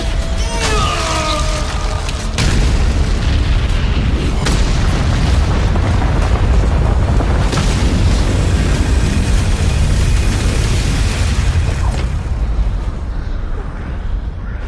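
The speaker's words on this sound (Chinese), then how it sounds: "难道他有自信在这最强爆炸中存活？" A huge explosion from the Swallowed Star animated series, a sustained roaring boom with heavy low rumble and crackling debris that rolls on loudly for over ten seconds, with sharper blasts near the start.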